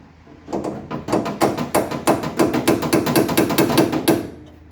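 Rapid metallic hammer blows on a Triumph TR3 steering rack, short cramped strokes struck in a steady fast rhythm, close and loud, about two dozen hits in a row.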